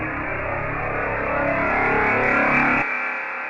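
A subtractive synthesizer plays a harsh, distorted noise tone through effects with the final filter removed, droning loud and dense, swelling slightly, then cutting off abruptly near the end and leaving a quieter tail.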